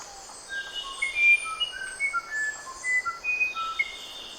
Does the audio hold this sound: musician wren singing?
yes